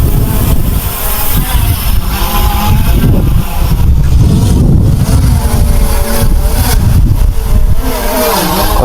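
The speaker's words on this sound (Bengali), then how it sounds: "কতটা হাওয়া দেখো, কতটা প্রচুর পরিমাণে হাওয়া।" Strong wind roars loudly and steadily in the open air near a descending drone, a dense broadband rush that buffets continuously throughout with no pauses.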